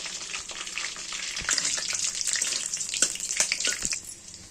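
Whole spices, dried red chilli, cinnamon, mace and bay leaf, sizzle and crackle steadily in hot oil, a close, moderately loud frying hiss with scattered pops and no talk.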